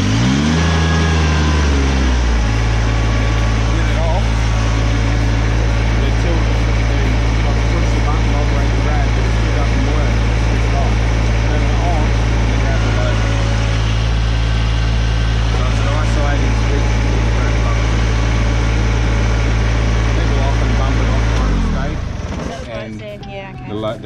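A Kubota BX2680 compact tractor cranks briefly, catches and then settles into a loud, steady diesel idle close by that runs for about twenty seconds before cutting off.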